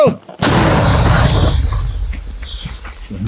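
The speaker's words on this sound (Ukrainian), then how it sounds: "Постріл! Постріл!" A single heavy 120 mm mortar shot booms loudly and close, then rumbles and decays over a few seconds; a shout is faintly heard before it.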